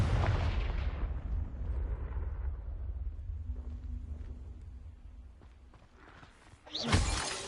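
A Confringo blasting spell from Hogwarts Legacy bursts loudly at the start, then a long rumbling decay tails off, before a sharp crackling burst near the end.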